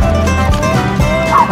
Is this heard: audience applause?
no